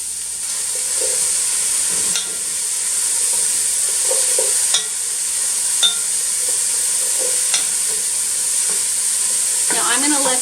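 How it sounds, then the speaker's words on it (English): Mushrooms frying in heated olive oil in a pan give a steady, close sizzle throughout, with occasional clicks and scrapes of stirring and a brief clatter near the end. "Okay, my oil is heated, so I'll go ahead and add the mushrooms."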